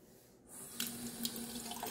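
A faucet runs steadily into a sink and splashes back a little, giving a continuous rushing hiss with small splashes on top. The sound is moderately quiet and close.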